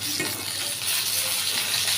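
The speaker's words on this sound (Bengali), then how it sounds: "দুইটাই ভাজছি" Chital fish frying in a pan, a close continuous sizzle with faint stirring, steady and moderately loud over the whole brief stretch.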